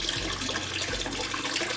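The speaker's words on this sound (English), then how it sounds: "now it has a water fountain" A frog-shaped water fountain at a restored 1700s barn home spits a steady stream of water, giving a continuous splashing and trickling wash with no talking.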